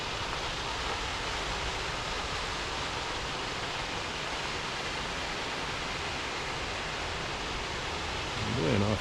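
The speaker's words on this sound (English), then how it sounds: "Yeah, nice little waterfall." A small waterfall, Hickey Falls, pours over granite rock onto a gravelly base, making a steady, full rushing roar that stays constant throughout, with a brief voice-like murmur near the end.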